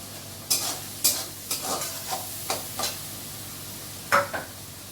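Shrimp stirred and fried in a pan, with a spatula scraping the pan in about eight separate strokes over a steady soft sizzle, close and alone without talk.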